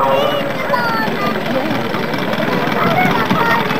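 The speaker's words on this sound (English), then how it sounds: "And here is the helicopter to carry out the" Steady helicopter rotor and engine drone from a rescue helicopter approaching a river display, fairly loud and continuous, with a murmur of voices and crowd noise underneath.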